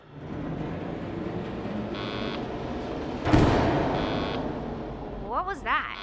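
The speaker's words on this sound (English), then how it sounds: "That was the sound of the generator failing." A generator failing in the video game Ire: A Prologue, heard as a continuous low mechanical rumble with a sharp burst partway through, then fading with warbling electronic whines near the end, under faint background game noise.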